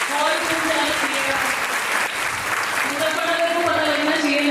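Loud, sustained applause from a seminar audience at a beautician event in Muzaffarnagar, a dense steady roar of clapping hands filling the room throughout with a faint voice or music underneath.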